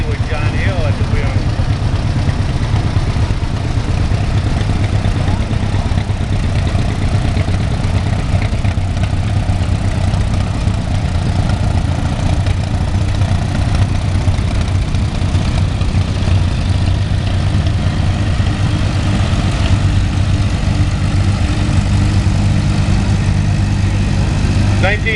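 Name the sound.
Farmall A tractor engine idling in parade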